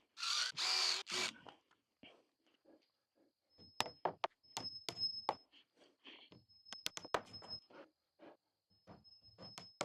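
Hammer blows driving into soft store-bought pine without pre-drilling: a run of sharp, irregular knocks at close range, after a brief loud burst of tool noise at the start.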